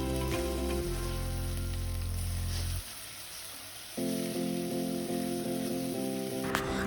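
Turmeric and blended scotch bonnet pepper sizzle and fry in a pot, a continuous bright crackle running beneath background music, with a short dip in intensity midway.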